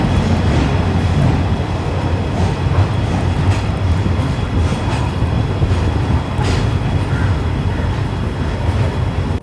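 The Mysuru–Talaguppa Intercity Express at Talaguppa station sends out a loud, continuous rumble of rolling railcars and wheels, with faint clacks running through it from start to end.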